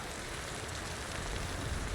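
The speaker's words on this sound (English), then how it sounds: "Of course it had to rain right now." Rain sets in during the climbing video game Cairn, a steady dense hiss of falling drops on surfaces, even and fairly quiet, with no talking.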